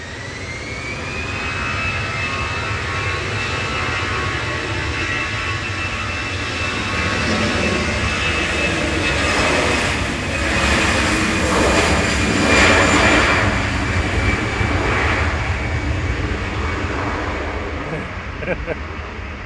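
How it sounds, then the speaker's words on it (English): An easyJet Airbus A320 jet at Manchester Airport roars continuously, with a high turbine whine over a broad rushing roar that swells and then eases, loud and close, while people talk faintly underneath. "EZGX operating flight 2171 across to the Netherlands. A320 Classic."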